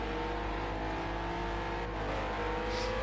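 Renault RS01 race car engines from Project Cars 2 on the Nurburgring short layout, a loud continuous high-revving drone with shifting pitch and a faint tire squeal, no talk.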